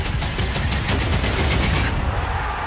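Rapid bursts of Counter-Strike gunfire during a professional G2 versus FaZe match, with evenly spaced sharp shots repeating through the first two seconds, loud and close, before cutting to a quieter tail.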